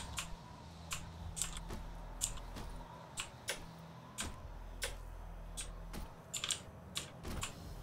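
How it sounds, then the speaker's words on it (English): During a DOOM 2016 session, computer keyboard keys and mouse buttons click in quiet, irregular bursts over a low steady hum, close to the microphone with no talking. "Hopefully the clicking won't be too much."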